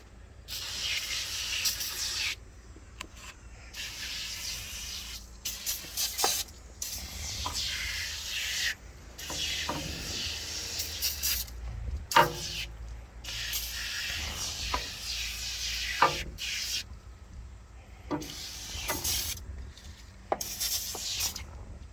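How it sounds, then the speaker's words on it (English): Aerosol can of degreaser sprayed onto the hydraulics compartment of a John Deere 450-B dozer, close hissing bursts of a few seconds each, separated by short pauses and faint handling rustle. "Probably should spray all that degreaser in here too."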